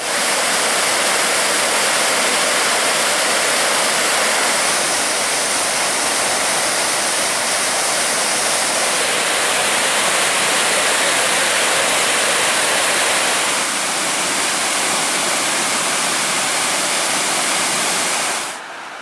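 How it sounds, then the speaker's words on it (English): Steady, loud roar of rushing water from a waterfall and rapids along the Superior Hiking Trail near Lake Superior, continuous and full-bodied throughout with no voices, cutting off abruptly at the end. "Saw some of the best falls and rapids of anywhere around here."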